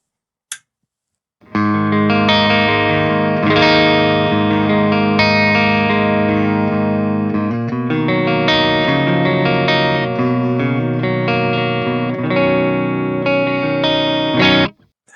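Electric guitar played through the clean channel of an ENGL Ravager IR amplifier, a full chordal passage with ringing sustained notes and a shimmering effect, loud and steady from start to end with no talking.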